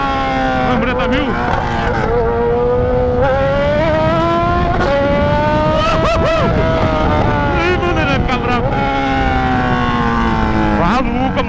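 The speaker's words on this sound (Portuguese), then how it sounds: "a moto dele é barulhenta" A Honda CB1000 motorcycle engine is revved hard and held at high RPM, its pitch climbing and dropping in loud sustained surges for the whole stretch, with voices talking and shouting close by over it.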